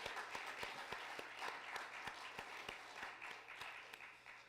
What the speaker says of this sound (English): Huge round of applause for all of their performances.